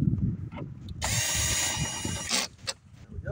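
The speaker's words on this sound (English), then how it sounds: "Got my drill set so it doesn't over torque and crack the door panel." A power drill whirs steadily for about a second and a half while driving screws into the door panel of a 2013 Nissan Altima, close and loud, with brief mechanical clicks and handling noises before and after.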